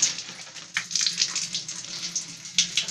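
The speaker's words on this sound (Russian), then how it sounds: "Тазик у нас почему? Потому что вода еле-еле бежит." A bathtub tap in an apartment running with weak water pressure, giving a thin, uneven splashing trickle that pulses and sputters in small bursts without any talking.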